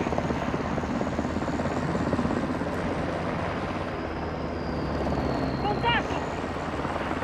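A helicopter in Call of Duty Modern Warfare 2 thumps steadily throughout, a loud continuous rotor drone, with game sounds and voices mixed in around it.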